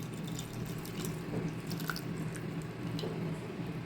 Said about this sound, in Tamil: இப்போ வந்து நம்ம இந்த தண்ணியை ஊற்றிடலாம்